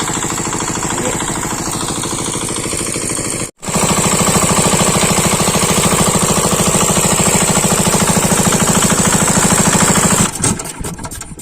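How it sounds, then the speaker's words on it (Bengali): Motor pump pumping water to a rice seedbed runs loud and close with a steady rapid chugging rattle, cuts out for a split second, restarts, then sputters near the end. "আর এই যে এটা আমাদের মোটর, এখান দিয়ে জল দিচ্ছে।"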